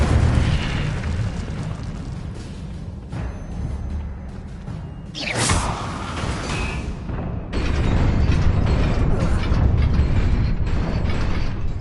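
Incendio fire spell cast in the Hogwarts Legacy video game: a whooshing burst of flame rises mid-clip amid layered magical combat effects and rumbling game sounds, with no talking.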